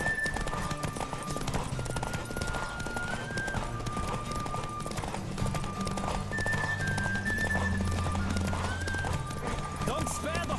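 A horse gallops in a race in The Witcher 3: Wild Hunt, its rapid hoofbeats continuous and close under tonal game sounds, with occasional whinnies.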